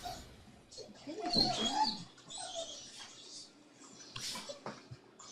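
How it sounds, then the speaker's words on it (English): An excited dog whimpers and squeals in the background of a room, high thin cries coming in bursts through the clip, loudest near the middle, with faint low background noise. "My wife just came back, so my dog is very excited. So you may hear her in the background."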